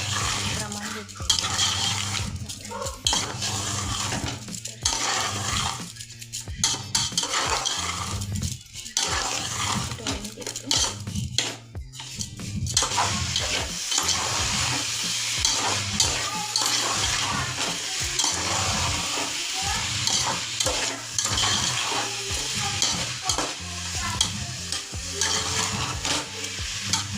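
A coconut barfi mixture of grated coconut and sugar syrup stirred continuously in a pan, with rhythmic scraping and clinking of a spoon against metal over a soft sizzle, close and fairly loud.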